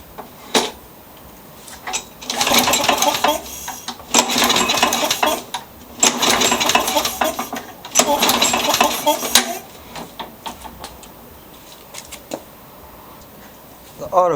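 Several pull-start attempts on a free Toro lawnmower with a stuck auto choke; bursts of rattling, cranking mechanical noise a couple of seconds long each, close and fairly loud, with pauses between and a voice nearby.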